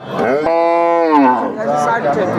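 A fattened cow on a cattle farm moos loudly and close by, one long drawn-out low call with a rising and falling tone.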